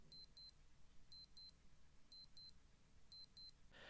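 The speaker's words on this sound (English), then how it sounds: "I will say for the alarm of this watch that although it's not the loudest I've ever heard, it is definitely loud enough to wake you up" Casio G-Shock GST-B100 watch alarm sounding in repeated paired high electronic beeps, four double-beep groups in a steady rhythm, clear but not very loud against a quiet background.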